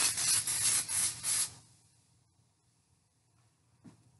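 Cooking spray hisses close by in several quick bursts onto a hot pan, then cuts off, leaving near silence with a small knock near the end.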